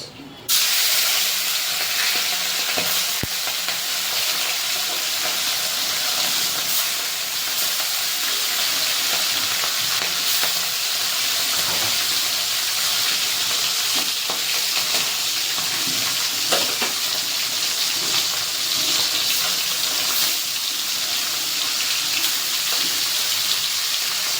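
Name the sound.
puti fish with salt and turmeric frying in hot oil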